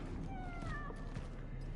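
Cat in the horror game Cronos: The New Dawn, heard meowing in a few plaintive, drawn-out cries over a low ambient backdrop.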